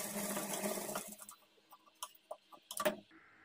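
A sewing machine stitches a blouse, a whirring run at first, then a string of separate clicks and taps as it slows to a stop, all quiet and close.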